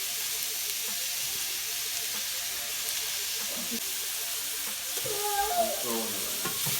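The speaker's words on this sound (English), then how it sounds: "So I'm just gonna add a little bit more oil. Now I'm gonna add my jackfruit." Jackfruit goes into hot oil in a pan, raising a continuous hissing sizzle that swells and crackles more busily near the end, close and steady, with no talk.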